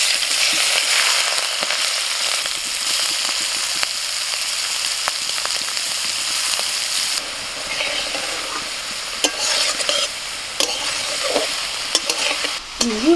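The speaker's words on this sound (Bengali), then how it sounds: "চিংড়ি মাছ তো বেশি ভাজবো না, হালকা করে ভাজবো।" Prawns frying in hot mustard oil, a loud continuous sizzle and crackle, with utensil scrapes and knocks from stirring near the end and no voices.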